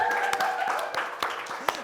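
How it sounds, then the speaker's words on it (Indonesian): An audience applauds for Yuni at a film promotion event for Malam 3 Yasinan. Scattered claps and a few sharper hand slaps sound close by, mixed with people talking and light laughter. "Tepuk tangan buat Yuni."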